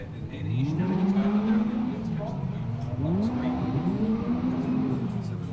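Caterham Seven 310R race cars weave and do burnouts at Cadwell Park to heat their tyres, engines rising and falling in overlapping revving sweeps at moderate distance, with a commentator's voice running over them.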